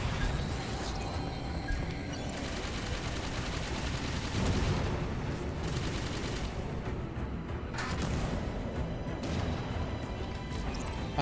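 Dense, continuous gunfire from Halo 5 gameplay rattles in rapid bursts, mixed with crashes and explosions throughout, loud and unbroken, with no talking.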